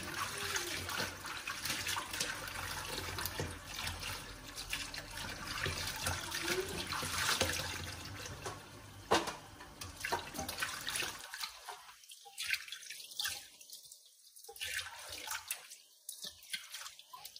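Tap water pours steadily in a kitchen sink while food is rinsed for cooking, then stops abruptly, leaving soft irregular drips and trickles.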